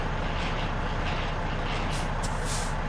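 Truck air brakes being set in American Truck Simulator, with a steady low engine idle running underneath and a few short, sharp hissing bursts of released air near the end.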